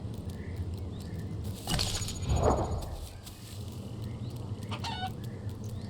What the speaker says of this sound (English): Alright, chicken.